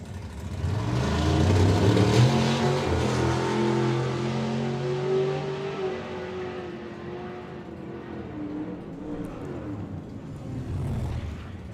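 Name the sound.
drag racing car launching and accelerating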